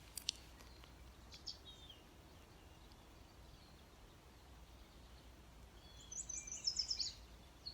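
A yellow warbler sings in a county park: a single faint, distant, quick series of high sweet notes near the end, after a few soft chirps over a quiet outdoor background.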